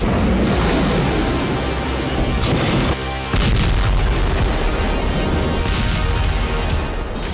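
A loud, continuous roar of booming blasts and rumbling detonations, with a brief dip in the middle before the heavy thunder resumes.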